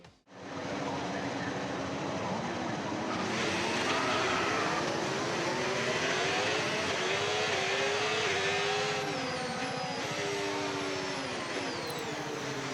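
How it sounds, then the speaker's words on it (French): F1 cars in a racing video game pull away for a sprint-race formation lap, a dense, loud engine roar with rising and falling revving tones that holds steady throughout. "c'est parti pour ce tour de formation de cette course sprint"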